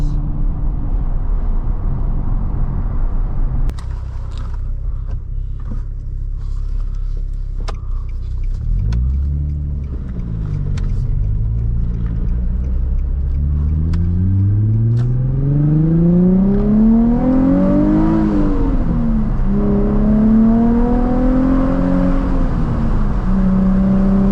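A Nissan 350Z fitted with a Tomei exhaust rumbles at idle, then revs up and pulls away with rising, sweeping engine tones through several gear changes, loud and close with no talk.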